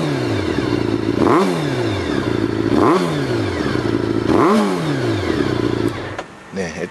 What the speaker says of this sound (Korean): 자, 뭐 엔진 시동 켠 김에 소리나 들어봅시다.